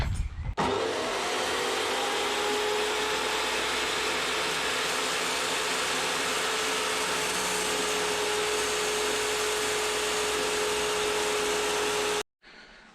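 A power tool whines steadily while cutting metal T-pieces for a homemade turbo manifold on a Toyota Starlet, a loud, continuous grinding drone with a constant high tone that starts abruptly and cuts off near the end.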